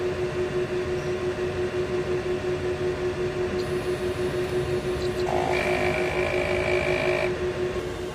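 A large-format printer, with about 270 meters printed over six days, runs its print-head cleaning cycle: a steady mechanical hum, joined midway by a brighter motor whine that holds for a couple of seconds, then stops.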